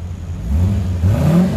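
A Lamborghini engine revs up loudly at a car meet, rising and holding a deep throaty roar across the short moment, close by with no talk.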